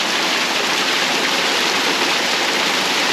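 A waterfall roars in a steady, loud, unbroken rush of falling water that fills the whole moment without any voices.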